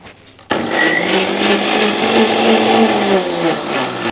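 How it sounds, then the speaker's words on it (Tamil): A mixer grinder blends cucumber pieces, whirring in loudly after a half-second pause and holding a steady, close grinding roar until the end. "இது மாதிரி மிக்சியில் போட்டு அரைச்சி இப்படி எடுத்து வச்சுக்கோங்க"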